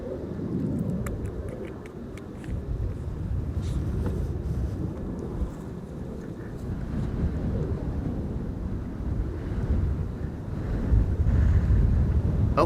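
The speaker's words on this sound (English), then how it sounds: "Wind suddenly picking up significantly here." Strong wind blusters outdoors at Amsterdam Schiphol airport, on the 36L Polderbaan runway. A dense, rumbling roar buffets the microphone for the whole stretch and grows a little stronger toward the end.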